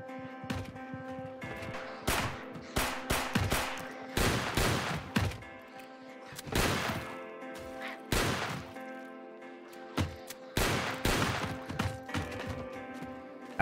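Repeated gunfire from a weapon fired inside a house in a cryogenic winter survival game, loud sharp shots in scattered bursts over a steady sustained background tone.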